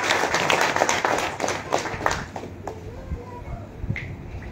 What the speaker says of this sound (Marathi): आपण टाळ्या वाजवून त्यांचं मनपूर्वक अभिनंदन करतो